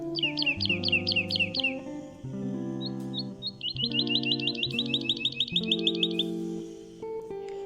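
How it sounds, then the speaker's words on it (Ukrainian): Rapid, repeated skylark chirps and bright trills in quick bursts, sung over a soft, sustained musical accompaniment. "А це жайворонок. Послухаймо і його пісеньку."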